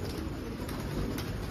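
Pigeons coo softly and steadily in a loft, a low continuous murmur of several birds close by with faint flutters and no talking.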